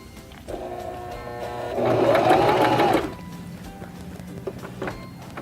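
A Singer Start 1304 sewing machine stitches the last step of a buttonhole, a steady rapid whirring run of about a second that swells loud in the middle of the clip, framed by quieter mechanical clicks and handling.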